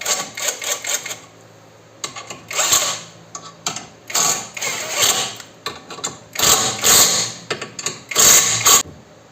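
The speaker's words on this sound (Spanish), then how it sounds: "Ponemos las tuercas en lo alto. Y apretamos." Nuts being tightened on a SEAT Ibiza 6L suspension with a tool, giving bursts of rapid mechanical clicking and whirring in repeated runs separated by short pauses, close and fairly loud, no talk.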